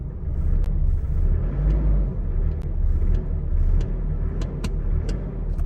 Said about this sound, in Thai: ตอนเช้าก็จะวอร์มอัพเครื่องไว้ สักแป๊บหนึ่งนะครับ